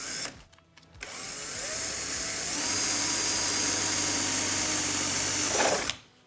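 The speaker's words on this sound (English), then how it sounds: "you're gonna take your drill and then drill the hole. So the drill that we're using is a 17/64 drill" A 17/64 drill bit boring a hole into the bodywork of a 2019 Polaris EVO 550 snowmobile; the power drill whines up, runs steadily for about five seconds at close range, then stops.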